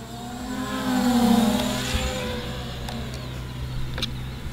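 An MJX Bug 3 brushless drone buzzes in flight, its motors whining and sweeping up and down in pitch as it moves around, fairly close and steady, with a few faint ticks.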